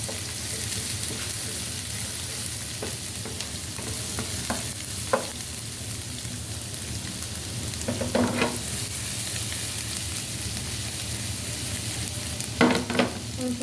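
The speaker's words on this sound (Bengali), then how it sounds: "এরপরে দিয়ে দেবো আমি এখানে চপ করে রাখা রসুন হালকা করে একটু ভেজে নেব" Chopped garlic fries lightly in oil that was heated beforehand, making a steady sizzle throughout with a few soft scrapes and stirring taps. Korean-style chicken is being cooked.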